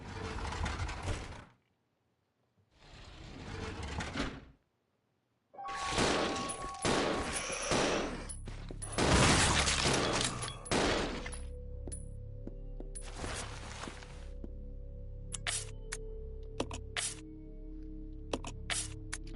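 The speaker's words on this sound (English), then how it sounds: "I'm gonna have to use the shotgun." Shotgun blasts in the Resident Evil 0 video game, a series of loud, separate bursts with silent gaps, then dense crashing and mechanical clatter, ending in scattered sharp clicks and ringing tones.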